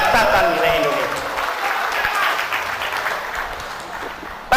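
Applause from an audience at an Indonesian public lecture on history, a broad wash of clapping that stays fairly loud before thinning slightly toward the end, with a voice heard briefly near the start.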